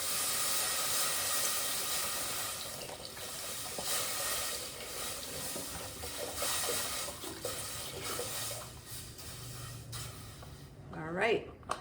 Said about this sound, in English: I think it's time to add our broth.